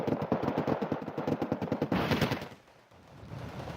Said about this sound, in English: He apparently spotted this, so he's shelling it.